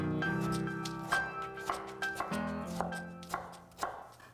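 A kitchen knife dices food into small cubes on a cutting board, about eight crisp, close chops in an uneven rhythm over a faint tonal background.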